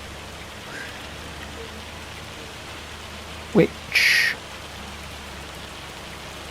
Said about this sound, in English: Well, I did not think we were going to get a hailstorm, but we have.